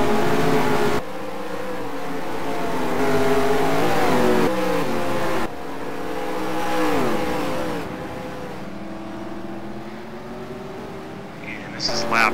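Race cars in a Gone Broke Racing event accelerate down the front straight off the last corner, engines rising and falling in pitch as they pass, loud and continuous with a faint voice underneath.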